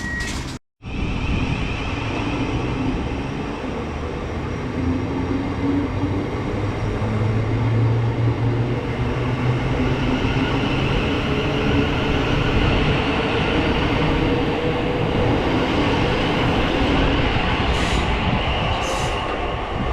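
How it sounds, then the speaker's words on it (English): A Thameslink Class 700 electric multiple unit departs a station on a West Sussex line, its rising hum, wheel rumble and faint squeals building steadily and staying loud and near for the full span, with no talk. "there goes 700-101 there, the 1627 Thameslink service to Peterborough"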